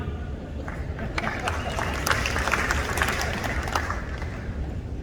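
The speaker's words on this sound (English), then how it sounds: "Polite applause." Polite audience applause at the opening of Freedom Fest, a moderate steady patter of clapping from a crowd with faint murmuring underneath.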